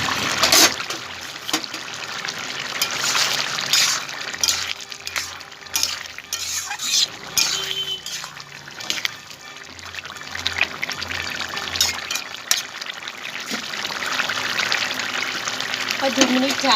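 Lentil fritters slide into a pan of simmering bottle gourd curry, with steady stirring, wet splashing and a soft sizzle running throughout at close range.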